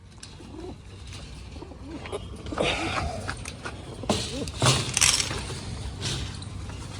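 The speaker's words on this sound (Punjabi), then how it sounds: "ਨਵੇਂ ਕਬੂਤਰ ਨਵੇਂ ਖੁੱਡੇ ਦੇ ਅੰਦਰ ਗਏ" Newly arrived pigeons being released into a coop give soft, low cooing calls amid rustling and a few louder bumps and flutters, fairly close, with no clear talk.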